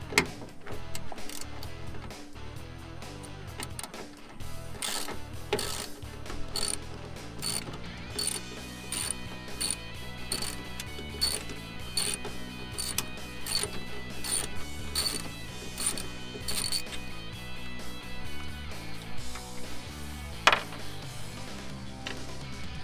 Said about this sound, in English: The next step is going to be the 10mm socket here.